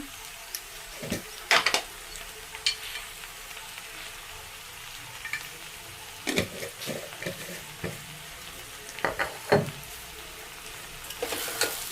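Okra frying in a pan with chili powder, coriander and turmeric being stirred in: soft continuous sizzle under intermittent scraping and clinking spoon strokes, clustered in short bursts with quieter gaps between.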